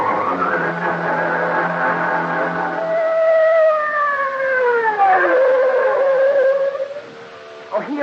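Police car siren arriving, a wailing tone rising and sweeping through several long glides, fairly loud and close, ending abruptly.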